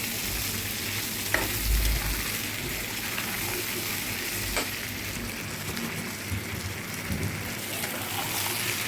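Boiled chickpeas and pointed gourd fry in a pan in a continuous dense sizzle, close and steady, with occasional stirring scrapes and no speech over it.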